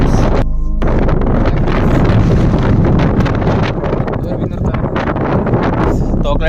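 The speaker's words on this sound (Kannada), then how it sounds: "ಗಾಳಿ ಅಂದರೆ ವಿಪರೀತ ಗಾಳಿ ಫ್ರೆಂಡ್ಸ್" Strong gusts batter the microphone on an exposed hilltop viewpoint, a loud, rough, continuous roar with rumbling buffets, and a voice talks intermittently through it.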